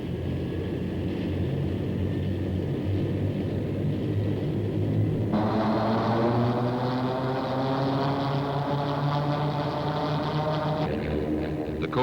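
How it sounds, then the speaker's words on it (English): Turbine engine of a Lockheed AH-56A Cheyenne helicopter starting up: a steady whine and hum that abruptly shifts into a rising, tonal spool-up around midway, droning on before changing character near the end, with no talking. "the engine is started."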